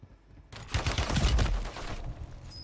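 Gunfire in Warzone 3 on the Urzikstan map erupts after a quiet moment into a dense, close burst of shots lasting about a second and a half, hitting and killing the player before fading into softer game sounds.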